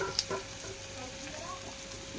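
Garlic goes into a frying pan of onions, a soft, steady sizzle after one brief clink at the start.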